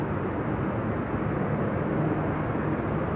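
An Embraer 190 airliner arriving at Schiphol's Buitenveldertbaan runway 27 gives a steady, broad engine roar, continuous and fairly loud with no breaks.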